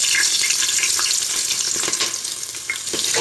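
Bay leaf and spices frying in about five spoons of hot oil, a loud, dense, continuous sizzle with bright spattering crackle and some stirring, close up and with no one talking.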